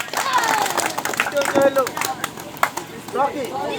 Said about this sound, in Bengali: সবাই আমরা হাততালি দিয়ে অভিনন্দন জানাই।